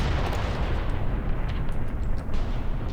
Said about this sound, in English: And he's throwing grenades